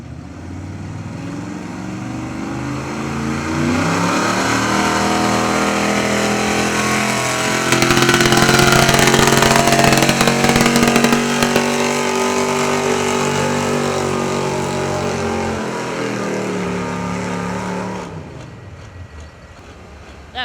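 A 10,500 turbo pulling tractor roars down the track at a truck and tractor pull, its engine building to a loud, sustained howl for nearly twenty seconds before cutting off near the end.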